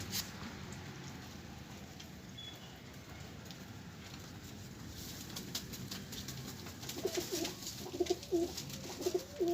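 Quiet room tone gives way to low pigeon coos near the end, a few soft throaty calls rising over faint rustling.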